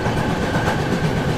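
Steady rumble and rattle of the Mandovi Express on the Konkan Railway, heard from inside a carriage just after leaving Mangaon station in monsoon rain, with continuous low roar and a faint whine above it.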